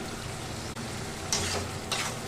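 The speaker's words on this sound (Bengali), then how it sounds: "এবার আমি যে চিকেন কিমাটা আছে চিকেন কিমাটাকে এর মধ্যে আমি দিয়ে দিচ্ছি" Chicken keema sautéed in a pan with yogurt masala for shahi chicken keema gives a steady, close sizzle, broken by a couple of scraping stirs of the spatula.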